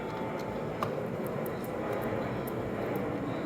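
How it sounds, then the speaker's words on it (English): Airplanes pass overhead as a steady, broad roar that fills the whole stretch, loud and unbroken, with faint high ticking over it and no one talking. "Those planes are loud."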